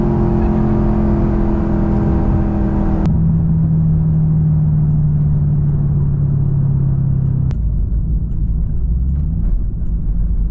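A 500 hp Corvette engine revs loud and close after a missed gear shift, a steady high drone that drops abruptly to a lower hum, then falls again to a deep idle rumble.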